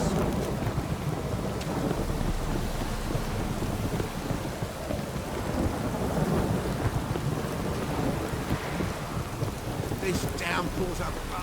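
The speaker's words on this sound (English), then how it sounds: "This downpour's a bastard, it is." Heavy rain with rolling thunder in The Witcher 3 game, a dense, continuous downpour hiss with low rumbles underneath, steady and close throughout.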